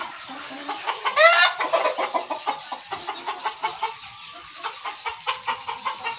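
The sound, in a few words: chickens and young roosters (cockerels) in a poultry farm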